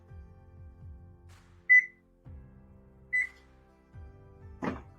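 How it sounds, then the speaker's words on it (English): A kitchen oven control panel is set to 350 Fahrenheit, giving three crisp single beeps spaced apart over a low background hum. "I am going to set my oven at 350 Fahrenheit."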